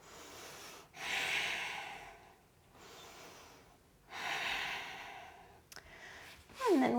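Slow, deep breaths held during a yoga stretch, long airy inhales and exhales alternating close to the mic, ending with a short audible sigh-like exhale.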